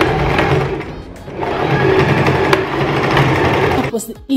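A sewing machine runs a straight stitch along the shoulder and side seams of a tank top, whirring steadily and close up, slowing briefly once before stopping near the end; a voice talks over it.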